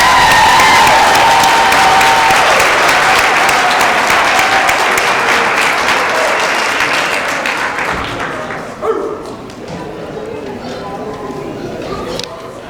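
Sustained applause from a commencement audience for the graduates, loud and dense with a few cheers, then thinning out and fading over the last few seconds as a voice picks up.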